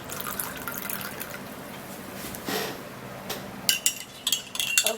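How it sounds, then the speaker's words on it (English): Water pours into a cup in a home setting, a soft trickling flow followed by a few sharper splashes and clinks toward the end, close and moderately quiet. "And then I'm going to be putting water."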